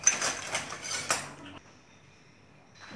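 Duck meat being tossed by hand with garlic, onion and seasonings for a pepper duck dish, giving a run of soft wet clinks and scrapes against a bowl for about a second and a half, then near silence with a faint tap at the end.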